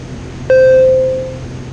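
A single sustained electronic warning beep sounds in the cockpit of a Waiex light aircraft. The avionics alarm was set off by near-freezing outside air temperature, and the tone rings clear and steady for under a second over a low engine drone.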